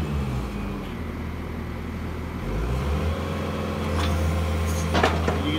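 A Snow Wolf snow plow's hydraulic power unit runs at full RPM, giving a steady, moderately loud motor drone with a slight rise in pitch partway through and faint clicks near the end.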